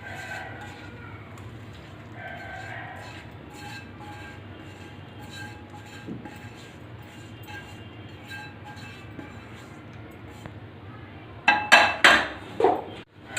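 Fried food is scraped from a frying pan into a bowl while cooking a spiced bottle gourd and urad badi curry. A low background hum gives way near the end to a short burst of sharp metal clinks and scrapes against cookware.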